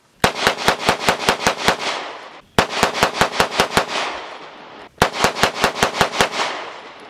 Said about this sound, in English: we wanted to shoot all three side by side